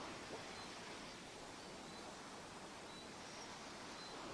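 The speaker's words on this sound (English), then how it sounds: "Yeah, the waterfalls are nice." A faint, even wash of rushing water from Croatian waterfalls, broad and steady like a distant waterfall, continues without change and without voices.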